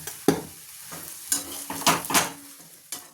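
Ghee poured into semolina sheera in a hot pan sizzles and crackles in several sharp bursts, mixed with stirring and scraping sounds, close and fairly loud, with no talking.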